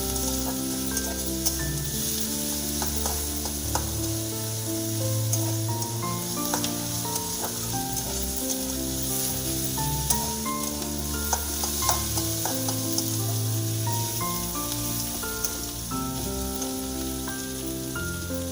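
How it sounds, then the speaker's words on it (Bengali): Onion and garlic fry in a pan with a continuous crackling sizzle, scattered pops and the occasional stir, loud and close, while steady tonal music plays underneath throughout. "পেঁয়াজ রসুনটা দু মিনিটের মতন একটু ভেজে নিচ্ছি"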